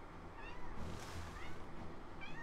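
A cat meows a few short, faint times in Final Fantasy XIV Dawntrail, under a low steady game ambience.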